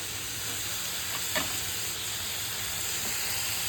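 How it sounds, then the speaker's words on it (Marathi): Chopped tomatoes added to fried onions in a pan for masala bhindi give a constant, even sizzle and hiss that fills the whole short stretch, with one faint clink and no talking. "कांदा चांगला परतला आहे, आता मी टमॅटो टाकून घेते."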